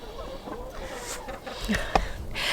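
A flock of about twenty hens cluck and murmur nearby, short throaty calls overlapping in an uneven patter against a soft farmyard background.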